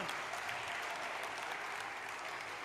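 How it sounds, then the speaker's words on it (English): Applause fills a conference plenary hall after a band's performance, a large audience clapping in a dense, even roar that stays steady from start to finish, heard at a distance and fairly quiet overall. "Another round of applause"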